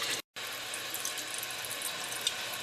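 Tap water running into a sink to cool boiled eggs cooked in an air fryer mini oven, a steady soft hiss and trickle after a brief cutout at the start, faint and continuous.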